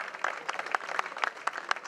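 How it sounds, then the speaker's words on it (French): Audience applause at a cycling stage race prize ceremony in Brittany, steady clapping with distinct sharper claps scattered throughout, moderately distant and fairly faint. "Vos applaudissements pour Célestin Guillon, le meilleur grimpeur"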